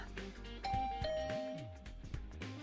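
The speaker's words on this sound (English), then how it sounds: "I took a deep breath and rang the bell." A video game doorbell at a dormitory room door in Hundred Line Last Defense Academy chimes clearly, a bright two-tone ring that sustains and fades with a soft musical backing.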